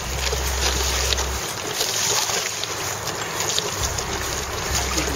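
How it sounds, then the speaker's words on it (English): Steady, loud wind roars across the microphone on a sailboat heading toward the Atlantic with a north wind, with low buffeting gusts and water rush continuing throughout. "Now the wind is blowing directly out of the north."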